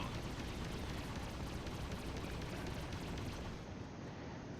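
A missile explodes against the player's ship in the space combat game Freelancer: a loud, dense, rumbling blast that fills the whole stretch without letup, and no talk over it.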